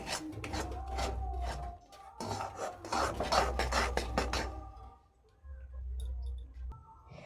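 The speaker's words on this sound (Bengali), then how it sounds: "এইভাবে অনাবরত নাড়তে থাকবো" A spoon repeatedly scraping and rubbing through thick chana dal sandesh mixture in a pan, steady rasping strokes in bursts with brief pauses, close and fairly clear.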